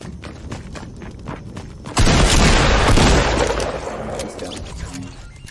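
Gunfire in a video game, with a few light clicks and then a sudden loud blast that rolls into a long, rumbling, booming tail, close and heavy, with no talking.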